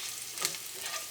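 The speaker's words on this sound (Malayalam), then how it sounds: "ഈ മഞ്ഞൾപ്പൊടിയും ഈ എണ്ണയിൽ കിടന്ന് നന്നായിട്ടൊന്ന് മുരിയണം" Turmeric powder frying in oil over a low flame, a soft, steady sizzle with faint stirring scrapes in one short stretch.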